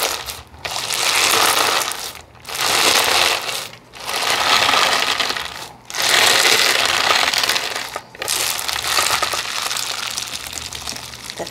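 Slime is squished and stretched in bursts of wet, crackly squelching, several long rounds of dense, close texture separated by brief pauses, with no talking.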